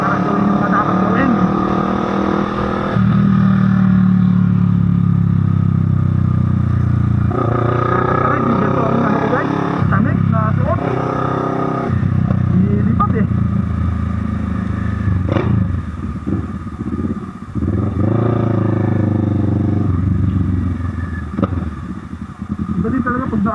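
A naked big bike motorcycle rumbles steadily while riding, its engine drone running throughout under someone talking over it.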